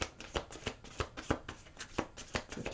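A deck of angel cards is shuffled by hand in quick, rhythmic riffles and soft slaps, close and fairly quiet, with no talking.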